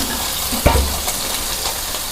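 Onion, green chilli, cashews, ginger-garlic, pepper and fennel sauté in a pan for a biryani masala, giving a soft continuous sizzle with one sharp knock of a utensil near the start.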